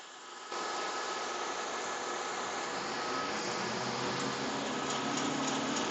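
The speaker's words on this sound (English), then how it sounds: "It takes a minute for the machine to spool up." Duplo iSaddle automated digital saddle stitching machine spooling up, a steady broadband whir and hum that starts abruptly and holds at an even level, with no talk.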